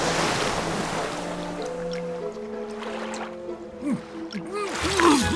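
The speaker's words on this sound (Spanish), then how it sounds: "¡Está acercándose el mar!" Sea waves washing in toward the shore in a steady, loud surf wash, with voices and tonal sounds over it.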